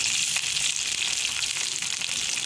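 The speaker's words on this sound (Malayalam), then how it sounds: "അപ്പോൾ നമ്മളിങ്ങനെ മുളക് എണ്ണയിൽ ഇട്ട് കൊടുക്കുന്ന സമയത്ത്" Salted dried chillies fry in hot oil for a Kerala curd chilli curry, giving a steady, close, loud crackling sizzle that holds without a break from start to end, with no voices.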